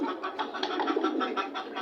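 Pigeons coo on a small farm, a soft, rhythmic run of repeated throaty coos close by throughout, with no talk.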